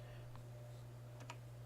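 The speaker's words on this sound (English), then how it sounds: "you can literally just type it in here" A few keystrokes of numbers typed on a computer keyboard, soft isolated clicks sitting faintly over a steady low electrical hum.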